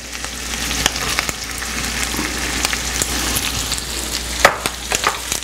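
Sausage and ham fry in a pan for Mexican frijoles rancheros with beer, giving a steady close sizzle and crackle with occasional sharp pops and stirring clicks throughout.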